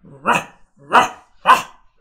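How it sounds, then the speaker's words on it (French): A dog barks three times in a steady, evenly spaced rhythm, each bark loud, close and clear against silence. "Ok, il aboie 3 fois."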